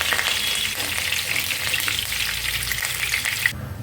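Curry leaves fry in hot oil for festival avalakki chooda, producing a loud, continuous crackling sizzle close by with faint stirring. The sound cuts off abruptly just before the end, and no one speaks.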